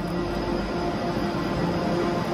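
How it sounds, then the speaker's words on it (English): A train rumbles on steadily in a continuous low roar with a broadband hiss, heard from aboard, with no talking. "I'm getting on the train now"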